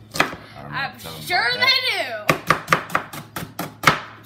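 Knife chopping onions on a board for French onion soup, a steady run of sharp close chops following a stretch of speech, with a brief spoken remark in the middle.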